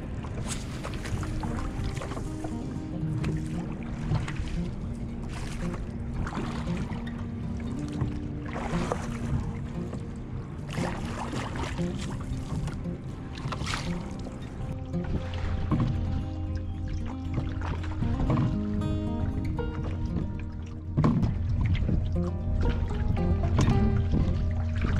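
A boat is paddled across water on a trout fishing trip for rainbow and brown trout, with continuous close splashing and sloshing from the strokes and the hull for the whole stretch.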